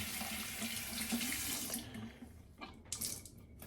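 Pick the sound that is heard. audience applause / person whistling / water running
water running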